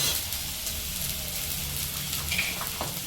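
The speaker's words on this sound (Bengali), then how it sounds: "একটু হলুদ, ভালো করে এটাকে ভেজে দিতে হবে" Mashed banana mixture with salt and turmeric frying in a pan for banana kofta, a steady, soft sizzle and hiss with small scraping touches, close and moderately quiet.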